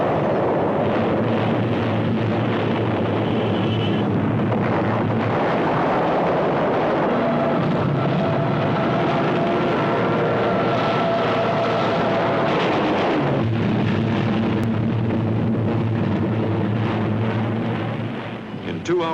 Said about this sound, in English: 50 land-based high-level and torpedo bombers swarm in